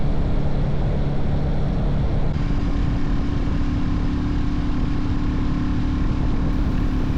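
Royal Enfield Classic 350 motorcycle riding on a road near Mainz toward Wiesbaden, a loud steady engine drone with heavy wind rush, no talk.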